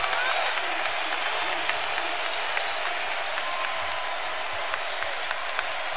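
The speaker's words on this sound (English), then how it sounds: "Now uh, the crowd rallying, trying to help Kentucky at the defensive end." A packed college basketball arena crowd at a Kentucky versus Tennessee game roars continuously, a dense wash of cheering and clapping filling the space while a commentator talks over it.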